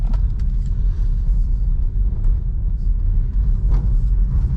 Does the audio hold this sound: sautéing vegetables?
no